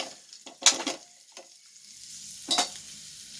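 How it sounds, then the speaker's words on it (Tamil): Dry cod fish sautéing with onion in a pan, a low sizzle broken by a few sharp spatula scrapes and stirs, close and fairly quiet, no talking. "கருவாடு வதக்கல் நான் கொஞ்சம் அப்படியே வதங்கட்டும்"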